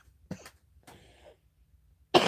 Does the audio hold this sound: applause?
no